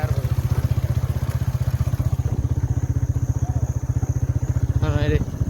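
An old motorcycle engine revs in a steady, loud rapid putter that runs throughout, with a brief higher clatter near the end while voices talk over it.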